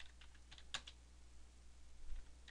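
Someone taps a few keys on a computer keyboard, giving soft, quiet, scattered clicks over a faint room hum.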